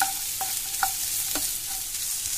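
Chopped carrot and small capsicum stir-fried in a pan, a steady hiss of sizzling with a few light scrapes of the spatula, close and alone.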